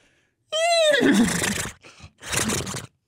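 A person imitates a sopping wet horse, giving a loud, close whinny that starts high and wavers downward, then a sputtering, breathy snort with a short pause between the two sounds.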